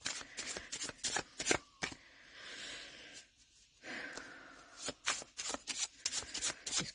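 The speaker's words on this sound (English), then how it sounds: "These cards are a bit mixed up." A deck of cards being shuffled and dealt close by, with repeated short riffling bursts and soft card slaps in an irregular rhythm, a brief quieter pause midway, and no talking.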